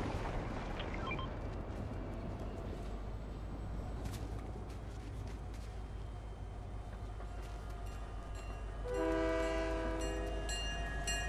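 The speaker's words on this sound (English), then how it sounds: "I might actually get on the train." Train in the video game Fortnite, a steady rumbling rail roll with a loud sustained horn blast rising near the end, no talking.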